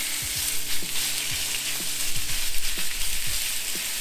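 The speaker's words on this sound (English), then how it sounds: "Look at that awesome Blackstone sizzle." Organic chicken breast sizzles on a Blackstone griddle, a steady close frying hiss with scattered pops and light scraping clicks, no voices over it.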